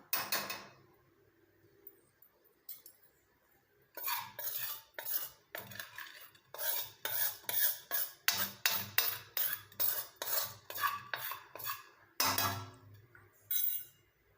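A metal spoon scrapes and clinks repeatedly in a pan while roasting homemade hair dye powder, rhythmic close scraping strokes in bursts with short pauses, no talk.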